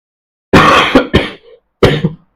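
Several sharp coughs close to the listener, a quick pair followed by a fainter one, a pause, then another harsh cough with a short trailing bit.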